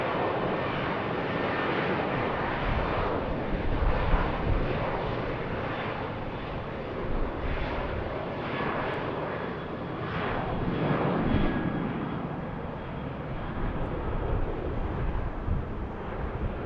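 An airliner departing BWI airport, a continuous rushing jet roar heard from a distance with slow surges in loudness throughout.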